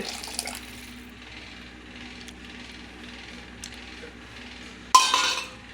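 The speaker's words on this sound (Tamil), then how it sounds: "புளிக்கரைசல் இதே வந்து உள்ளே ஊற்றிட்டு" Tamarind extract is poured into a pot of sambar with toor dal, giving one short, fairly close splash near the end after a quiet stretch of faint kitchen background.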